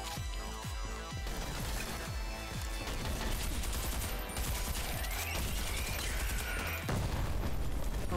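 Enemy gunfire in a video game, dense volleys of shots and crashing bursts under a steady loud game soundtrack, with repeated sharp transients through the opening seconds and a heavy sustained bed after.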